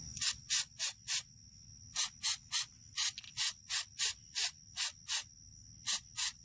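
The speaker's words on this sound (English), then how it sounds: "I'm just going to spray it." Short, sharp hissing bursts from an aerosol can of mass airflow sensor cleaner, about fifteen quick sprays in an uneven rhythm, close and fairly loud.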